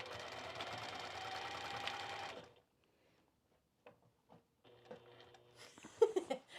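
A sewing machine stitches the fabric of a pair of kite pants in a steady, fast whir for a couple of seconds, then stops and leaves a few faint ticks and handling sounds.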